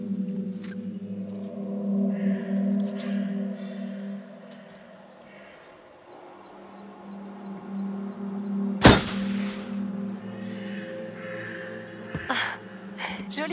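A single sharp gunshot at a glass bottle in the horror game Until Dawn rings out near the middle, loud and close, between quieter stretches of tonal game ambience, breaths and small movement sounds.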